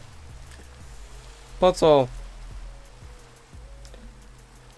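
Steady thunderstorm rain in the video game Minecraft, a soft continuous hiss running throughout, with someone briefly speaking over it midway.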